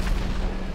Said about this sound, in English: Tank cannon and tank cannon.